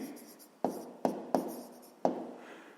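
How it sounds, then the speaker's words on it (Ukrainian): A pen writes by hand on paper up close, giving quiet scratchy strokes broken by four sharp taps as the pen comes down. Faint and with no voices. "Ну що ж, записуємо тоді друге завдання."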